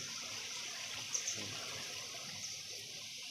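Two rivers meet, their water flowing in a steady, even rush with a soft trickling texture, continuous and fairly quiet, with no voices.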